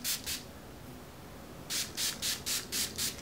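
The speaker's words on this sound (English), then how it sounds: "I just spray this all over my hair." Hair spray misted over hair in short bursts: two quick hisses, a pause, then six rapid even sprays close to the listener, with no talking.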